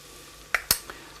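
A few quick scrapes and taps of a spoon stirring ground coriander, cumin and chilli in a pan, soft and close with a faint background hiss, three short strokes in about a second.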